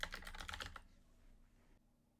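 Rapid keystrokes on a computer keyboard while entering heading text in a design program, a dense burst of clicks for most of a second, then trailing off into quiet room tone.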